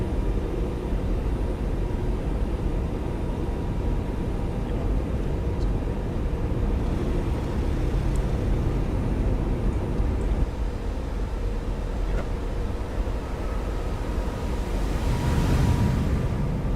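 An Airbus A321neo in X-Plane 12 rolls along a bumpy runway with a steady low rumble and broad engine roar, and a faint rise of whooshing noise appears toward the end.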